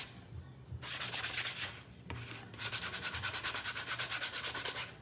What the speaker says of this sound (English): I'm gonna take the sandpaper again and just kind of go over the edges